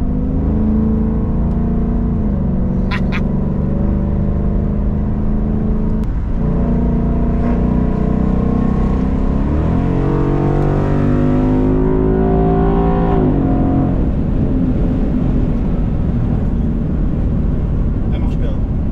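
A Ford Mustang GT with a light tuning body kit runs and revs, its engine note rising and falling through several swells over about twenty seconds, loud and close, with a voice talking over it.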